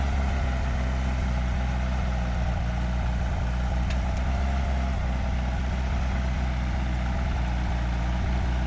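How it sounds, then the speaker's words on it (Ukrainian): Homemade tractor ploughing with two ploughs and an added weight, its engine a steady low rumble running continuously and fairly loud with no talk. "Він зробив вантаж такий на на трактор і ось тако двома плугами оре."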